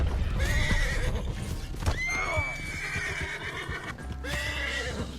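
A horse in Red Dead Online neighs and whinnies repeatedly, with rising and falling cries over a busy game background of hoof clip-clop and rumbling noise, close and fairly loud.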